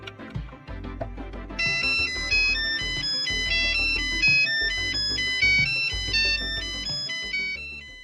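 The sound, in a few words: personalized mobile phone ringtone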